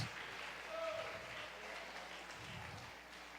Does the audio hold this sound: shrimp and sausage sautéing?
no